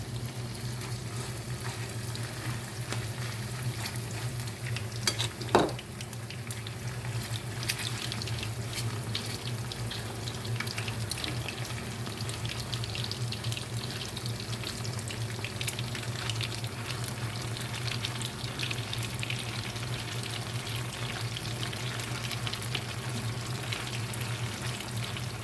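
Salmon coated in corn flour fries in a pan, a steady crackling sizzle like running water that holds alone for the full stretch, with one brief louder pop early on.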